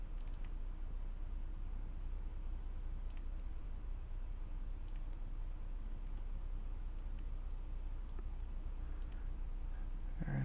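Sparse, crisp clicks of a computer mouse, a handful spread irregularly over a quiet steady hum, close and faint, with no talking.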